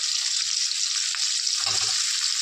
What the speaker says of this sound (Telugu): ఇప్పుడు తర్వాత ఉల్లిపాయలు వేగుతున్నాయి కాబట్టి ఇప్పుడు మనం టమాటా వేసుకుందాం